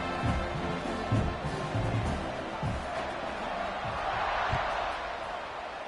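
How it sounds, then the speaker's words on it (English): Steady buzz of a large football stadium crowd after a score, a broad wash of murmur and scattered shouts continuing throughout at moderate volume, with faint thumps underneath. "this crowd is buzzing after that last score"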